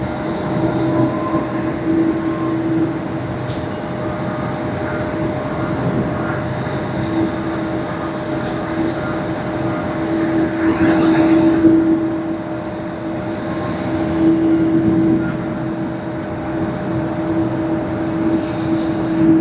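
An American Airlines jet at Tokyo Haneda Airport gives a steady, loud engine roar with a constant tonal hum, swelling slightly at moments.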